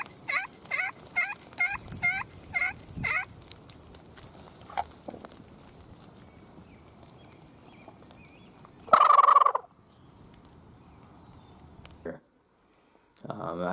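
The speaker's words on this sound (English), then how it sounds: "heard a gobble" A wild turkey's rapid series of high, rattling gobbles opens the clip, followed by quiet rustling and a short burst of hissing sound, with faint background noise throughout, during a public land hunt in Ohio.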